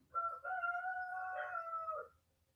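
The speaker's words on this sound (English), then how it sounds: "The roosters are back." A single rooster crows once, a clear drawn-out call of about two seconds, moderately distant and alone against a quiet background.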